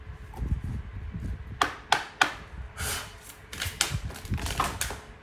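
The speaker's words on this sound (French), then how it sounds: "Et les cartes tombent..." Tarot cards shuffled and laid down during a reading, a soft low rustle broken by several sharp slaps and taps of cards landing, close and fairly quiet, with no talking.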